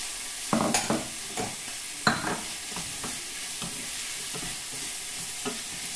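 Tomato and champignon mushrooms frying in a pan, with a steady bright sizzle broken by several scraping, clacking stirs of a utensil against the pan, no talking.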